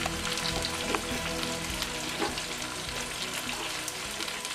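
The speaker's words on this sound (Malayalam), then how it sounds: "വഴുതനങ്ങ നന്നായിട്ട് വഴണ്ട് വന്നിട്ടുണ്ട്." Brinjal (eggplant) frying in a pan makes a dense, continuous sizzle with occasional faint stirring clicks, close and steady throughout, with no one speaking.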